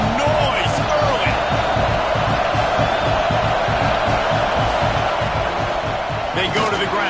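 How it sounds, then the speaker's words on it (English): A large football stadium crowd roars continuously during a Florida versus Florida State game, a dense loud wall of cheering and noise with occasional sharper whoops and thumps. "This crowd bringing the energy and noise early."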